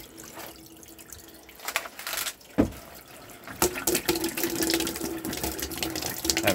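Hot water runs from a tap in a 2017 Bailey Unicorn III Pamplona caravan, a steady hiss of flowing water with brief drips and splashes, growing fuller and louder midway as the flow strengthens into the sink.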